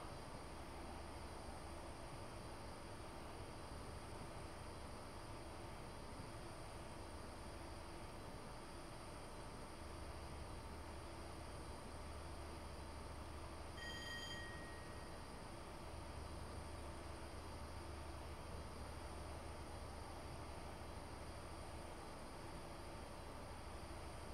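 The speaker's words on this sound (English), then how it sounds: "that's another freight service going by" A freight train rolls past in a UK train simulator on the East Coast Main Line, a low, steady rumble that stays faint and continuous throughout, with a brief high tone partway through.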